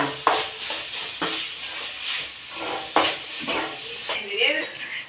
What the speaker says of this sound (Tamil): கருவேப்பிலையை போட்டு நல்லா வதக்கிக்கணுமா?